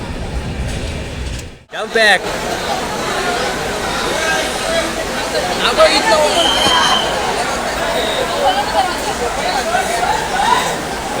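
Konkan Kanya Express rolling out on the journey toward the Konkan during Ganpati travel, a steady broadband rumble of the moving train carriage with a continuous background murmur of passengers' chatter, after a brief dip near the start.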